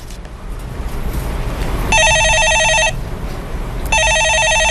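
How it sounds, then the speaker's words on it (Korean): A telephone rings in two loud electronic bursts separated by a pause, each a bright, steady trill over a low background hum. "전화 받아보겠습니다"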